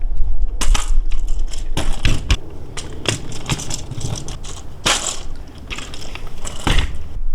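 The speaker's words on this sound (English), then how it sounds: "Then you simply snap it down." Plastic parts of a BWT PK Turbo rechargeable pool leaf vacuum are fitted and snapped together, a series of sharp clicks and rattling knocks close up, irregularly spaced, with no speech.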